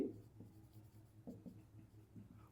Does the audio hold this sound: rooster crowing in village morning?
no